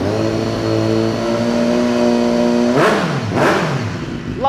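A 2016 BMW S1000R motorcycle with a genuine carbon exhaust holds a steady throaty idle, then blips the throttle twice in quick sharp revs that climb and drop back, loud and close with no voices.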